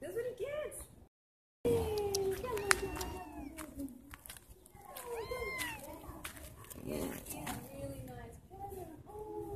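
A cat meows repeatedly in rising and falling calls, close and fairly loud, with a brief silent gap early on and people talking around it.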